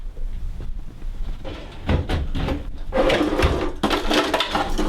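A bathroom drawer slides open with wooden scraping and knocking as small toy cars and a toy dump truck inside rattle and shift, close and fairly loud.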